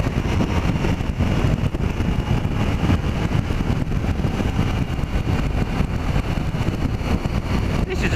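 Onboard engine roar from a 2015 Triumph Tiger 800 XRX motorcycle accelerating, a steady loud drone mixed with wind rush, continuous and close throughout.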